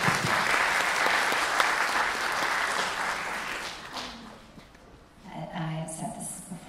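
An audience at an actor panel at a Toulouse games convention gives sustained, loud applause from many hands, a dense even roar that fades out after about four seconds, followed by quieter voices speaking.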